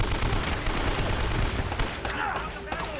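Dense automatic gunfire from Uncharted: Drake's Fortune rattles on continuously at close range, with a few sharper cracks near the end.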